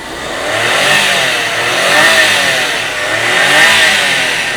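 The engine of a 4x4 Suzuki Kei van (DA64W) revs up and down in repeated swells, loud and close, with a buzzy rising and falling tone and no talking.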